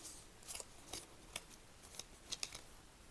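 Scissors snipping through fabric to cut kimono jacket sleeves, a series of close, crisp cuts at an uneven pace.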